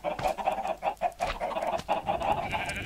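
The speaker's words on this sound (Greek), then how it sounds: "Και αυτό ήταν η βροχή κοτόπουλων." Chickens in the video game Minecraft cluck in quick, close bursts, several birds overlapping in a busy, fairly loud chatter after a rain of chickens.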